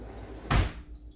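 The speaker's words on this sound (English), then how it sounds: "we're gonna open up the door right now" A house door being opened in a home with a smart thermostat, heard as a single muffled thump and swish over a steady low background hum, fairly close.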